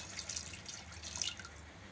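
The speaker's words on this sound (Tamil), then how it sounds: "இப்போ இதில் வந்து நம்ம ஒரு கப் தண்ணி சேர்த்துக்கலாம்" A cup of water is poured into a pressure cooker holding carrots, making a steady, close splashing trickle for a couple of seconds.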